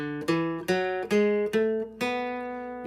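Acoustic guitar playing six plucked single notes in a row from B, evenly spaced and ringing, clear and alone.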